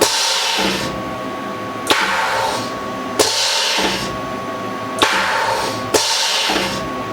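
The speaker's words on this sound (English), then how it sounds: "take a good look at this spindle when I hit the drawbar button" Power drawbar on a Tormach 1100MX mill actuating the spindle collet gives a loud, sustained pneumatic hiss in bursts, each starting with a sharp clack, about five cycles in quick succession.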